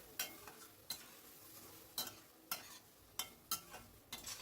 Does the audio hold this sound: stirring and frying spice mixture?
yes